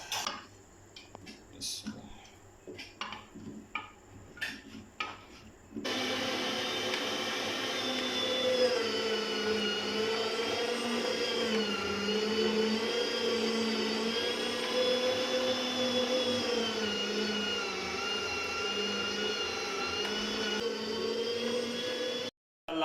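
Raw cut potatoes crushed in an electric chopper: a few knocks and clatters of the pieces going in, then a loud steady whining motor drone that runs for about fifteen seconds before cutting off.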